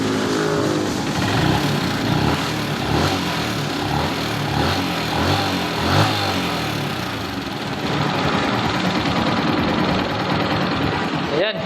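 A Honda TMX 125 motorcycle engine running close by after a rebuild, a loud, steady clattering putter with fast mechanical ticking that holds at a constant pace throughout.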